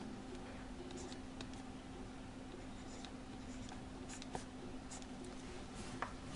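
A pen or marker writing phonemic script for the word yes, soft scratchy strokes coming in short bursts, faint and close against a quiet room hum.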